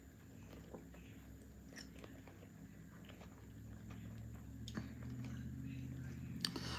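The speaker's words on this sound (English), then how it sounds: "I'm sorry, I'm chewing." Someone chews food in soft, faint, irregular bites and munching sounds over a low steady background hum.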